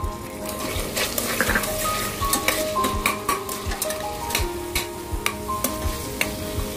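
Onions and whole spices fry in hot oil, a steady close sizzle broken by repeated scraping and clinking of a spoon stirring in the pan.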